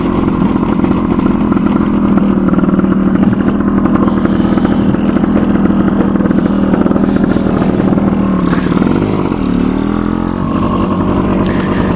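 Motorcycle engine running steadily while riding in cold weather, a loud continuous mid-pitched drone with shifting revs and wind rush throughout, no voice over it.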